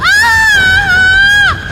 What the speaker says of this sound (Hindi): इसको सुन के कनक जोर से चीखी